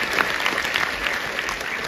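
A packed Comic Con crowd in Liverpool claps for a Stranger Things cast panel. The applause is dense, steady and fairly loud, with a faint crowd murmur underneath and no clear speech.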